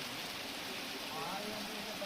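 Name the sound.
heavy rain in Chamba, Himachal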